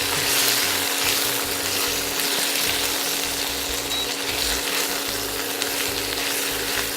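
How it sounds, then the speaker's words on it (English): Spinach wilting and being stir-fried in a pan gives a steady, close sizzle with faint stirring scrapes, continuous and without pause. "It's almost like I'm stir frying this."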